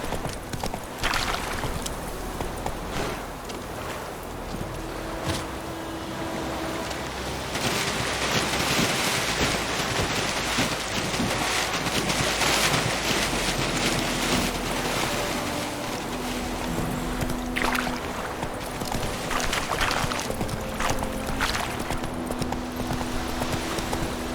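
Roach the horse gallops in The Witcher 3, steady rhythmic hoofbeats pounding close over a backdrop of wind and washing water, continuing throughout with a brief louder surge partway.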